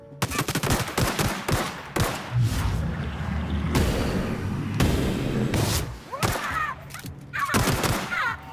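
Gunfire from The Outer Worlds video game, a run of loud, dense shots and bursts with booming blasts, continuing across most of the stretch with brief gaps near the start and end.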